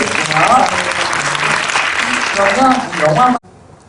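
Audience applause at a Moana preview screening Q&A event, a dense burst of clapping from a large crowd with a few voices mixed in, loud and steady before stopping abruptly.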